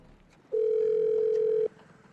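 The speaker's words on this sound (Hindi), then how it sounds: "फोन करके पूछती हूँ कहाँ पहुंचा।" A telephone ringback tone plays while a call is being placed, heard as one steady, clear tone lasting just over a second and standing alone against a quiet background.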